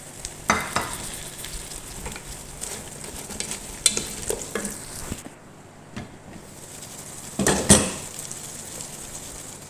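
Potato, capsicum, carrot and curry leaves fry in a pan with a steady sizzle, broken by several louder stirring scrapes and clatters, close up with no speech.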